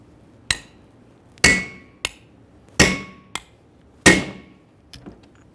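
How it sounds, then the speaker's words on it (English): Sharp metallic hammer blows drive a steel driver onto a wheel bearing seal against a Ford Ranger front brake rotor, about six spaced strikes alternating heavier ringing hits and lighter taps, close and loud with no talking. "Continue on with a steel driver, pressing it down as flat as possible until it's completely bottomed out against the brake rotor."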